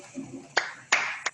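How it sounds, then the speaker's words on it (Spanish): A small audience applauding at the close of an education talk, heard as a few sharp, separated claps over about a second rather than a full sustained ovation, following faint speech. "un aplauso."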